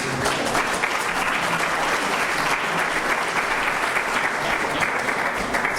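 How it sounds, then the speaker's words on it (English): An audience at a 1999 Rotary Club installation dinner claps steadily after a closing prayer, dense sustained applause filling the room for several seconds with no talking. "Not often you hear clapping for prayers."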